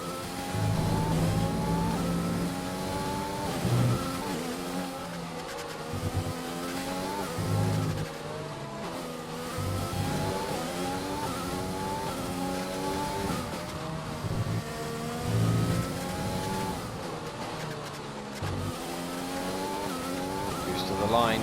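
Formula One car engine screaming through a lap in the F1 2020 racing game at Abu Dhabi, harmonics rising and falling steadily with gear changes, with brief tire squeal and a commentator talking over it throughout.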